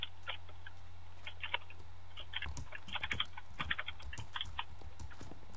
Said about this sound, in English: I can hear you typing something.